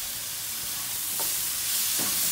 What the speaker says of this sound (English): Stir fry the green beans for about 1 minute.